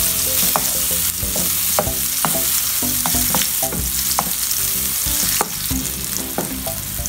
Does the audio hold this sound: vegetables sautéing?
yes